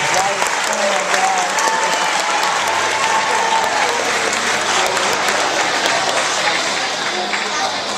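An audience at a club meeting claps loudly and continuously, a dense roar of applause filling the room for several seconds, with some crowd voices mixed in.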